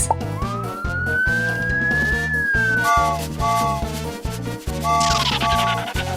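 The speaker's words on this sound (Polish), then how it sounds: "To auto strażaka!" A cartoon-style fire truck siren whistles in a long rising and falling wail over a bouncy children's music backing, loud and upfront, with later short siren blips repeating.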